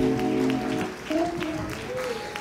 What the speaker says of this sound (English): keep clapping as they're coming in